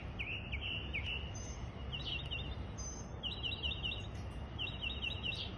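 A neighborhood mockingbird singing outdoors: a series of short, faint repeated chirping phrases and trills, varied in pitch, spaced across a quiet background.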